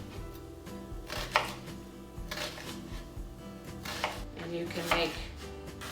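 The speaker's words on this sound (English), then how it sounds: "Okay, finish chopping this up." A knife chops onion on a cutting board for a salad, with a steady series of close, crisp thuds and clicks. A voice speaks briefly over the chopping.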